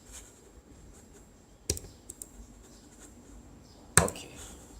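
A few sharp computer mouse clicks, isolated and fairly close, spaced over a few seconds against a quiet room background while old folders are being deleted.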